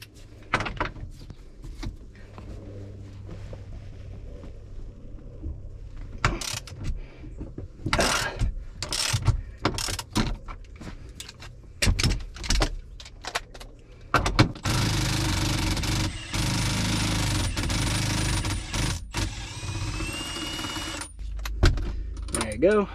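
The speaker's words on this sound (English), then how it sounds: "I'm gonna get the breaker bar or corded electric impact" Corded electric impact wrench working a rear upper control arm bolt on a supercharged car: scattered clanks and tool handling, then a long loud whirring, hammering burst near the end, with speech around it.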